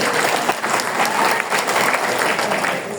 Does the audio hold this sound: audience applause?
yes